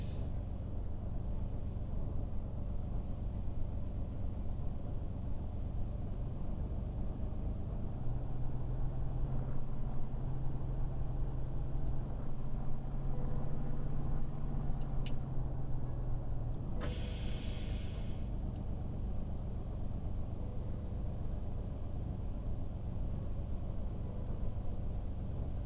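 Spitfire aircraft engine in a flight simulator, a steady loud droning rumble with a low tone rising midway, then a brief burst of hissing noise before the drone carries on evenly, with no voices.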